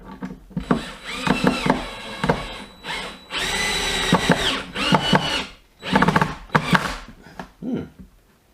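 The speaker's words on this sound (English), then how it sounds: "an amazing screw driving drill this really is" A DeWalt drill drives a single-thread wood screw into wood, whirring loudly in several short bursts of varying length separated by brief pauses, close up, with no talking.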